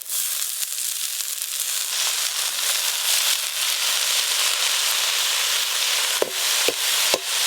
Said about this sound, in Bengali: আজকে তো আমি এক ফোড়নেই শাক ভাজা করে নিচ্ছি